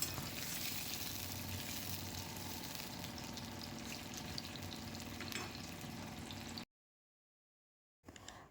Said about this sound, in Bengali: এই যে কালো জিরে ফোড়ন দিয়ে দিলাম